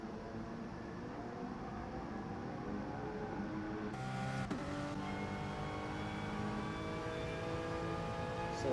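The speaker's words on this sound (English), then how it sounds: "So this is a Group 4 car." A Group 4 race car engine in a racing video game on the Alsace Village circuit drones steadily at a moderate level. Its harmonic tone climbs in pitch after a few seconds as it revs higher, with no talk.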